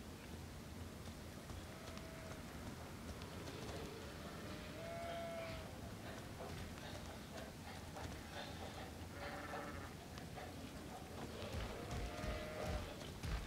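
Sheep in Elden Ring's Caelid region bleat and low repeatedly, several thin drawn-out calls over a quiet, steady outdoor ambience.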